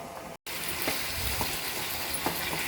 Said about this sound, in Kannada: ಉರಿಯನ್ನು ಜಾಸ್ತಿ ಮಾಡಿ ಒಂದು ಮುಚ್ಚಳನ ಮುಚ್ಚಿ 3ರಿಂದ 4 ನಿಮಿಷ ಈ ಚಿಕನನ್ನು ಬೇಯಲಿಕ್ಕೆ ಬಿಡೋಣ.